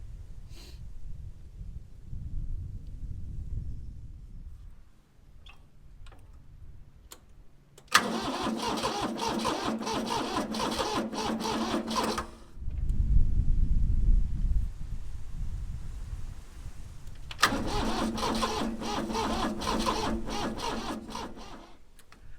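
An old tractor with a weak battery being cranked and starting: low engine rumble, then two bursts of loud mechanical clatter separated by a deep idling drone, heard up close outdoors on a rural farm.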